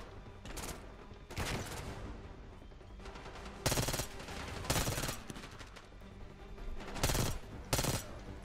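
Gunfire from a weapon in Black Ops 6, with rapid bursts of shots cracking through sustained loud battle noise and several sharp, heavy volleys standing out across the stretch.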